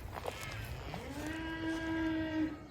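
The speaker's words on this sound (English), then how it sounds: "There goes my cow, she's not happy with me." A cow on a small five-acre permaculture farm gives one drawn-out moo, rising then holding steady, close and clear over faint outdoor background with no talking.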